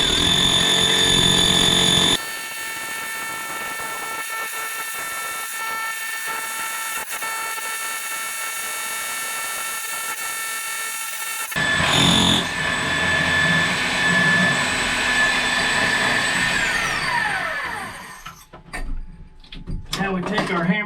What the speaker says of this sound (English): Gonna see if we can get this daggone thing core drilled out so we can get some wires pushed through.